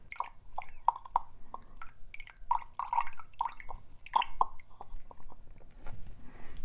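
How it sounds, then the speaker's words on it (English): Water is squeezed from a bulb syringe through a disassembled Lamy Dialog cc fountain pen, making a series of close, crisp drips and wet squishes in an irregular rhythm, with no talking. "take your bulb syringe and fill it with some water, put that right on the end, and then flush the inside of the pen out"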